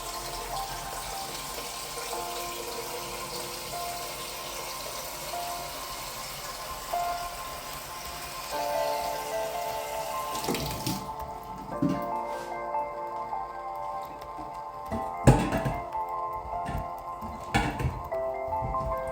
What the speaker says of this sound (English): just fill it up, either with a saucepan, a kettle, or depending on the depth of your sink and faucet